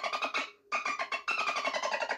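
A kookaburra call pitched up so it passes for a dolphin, rapid chattering bursts of squeaky, trilling clicks that pause briefly and then resume, loud and close.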